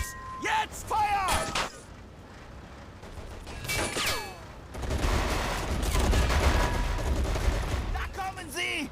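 Gunfire in the World War II strategy game Men of War, German campaign on the way to Tunis: bursts of rifle and machine-gun fire, a couple of sharp reports early, then a sustained rumbling fusillade, with shouted voices between.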